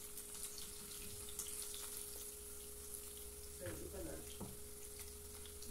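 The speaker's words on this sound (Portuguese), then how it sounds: "eu tô fritando franguinho na banha" Chicken fillets fry in lard, giving a steady close sizzle and crackle with a few louder bubbling spurts and a faint steady hum underneath.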